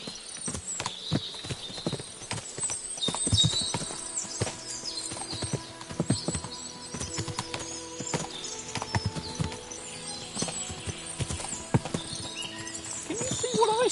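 Horse hooves clop irregularly nearby in Kingdom Come: Deliverance II, several animals shuffling and stamping, with occasional snorts and a faint whinny over a quiet background.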